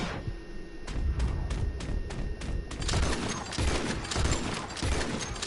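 Repeated rifle fire from a repeater in the Red Dead Redemption 2 video game, a quick series of sharp shots in the first few seconds, then a denser clatter of gunfire and impacts.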